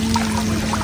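River water flowing along a hiking trail at Denai Tiga Puteri, a loud, steady rushing pour with a constant hum underneath and no voices.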